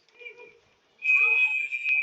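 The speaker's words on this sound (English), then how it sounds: "And we'll have a whistle." Referee's whistle at a high school basketball game between SC and St. Ignatius: a short faint chirp, then a long loud shrill blast with a brief accent near the end, over faint arena noise.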